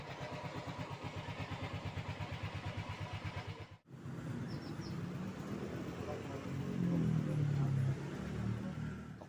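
A Yamaha Mio Soul GT 125 scooter engine idles with a quick pulsing beat, cuts briefly, then revs up into a rising, steady drone, close and moderately quiet.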